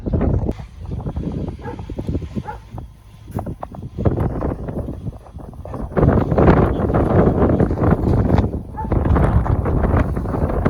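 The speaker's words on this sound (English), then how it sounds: "So the wind is blowing in the mid-20s today. It feels like it's blowing 40." Strong gusty wind blowing in the mid-20s, roaring and buffeting loudly against the microphone in uneven surges that grow stronger in the second half, with faint outdoor sounds underneath.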